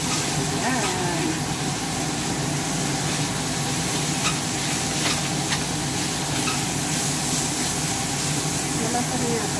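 Tofu for sisig sizzles steadily in a hot pan while being stirred, a continuous loud frying hiss with occasional scraping clicks of the utensil.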